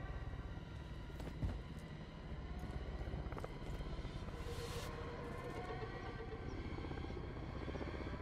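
Helicopter in the video game Modern Warfare 3, a continuous rotor and engine roar with a few sharp impacts and bursts layered on top, fairly loud and constant.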